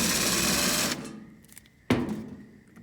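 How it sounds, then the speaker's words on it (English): A power drill spins a screw out of a Whirlpool dryer during a repair, giving a loud steady whir that stops after about a second, then a sharp clack follows. "Now I'll go ahead and remove those with the power drill."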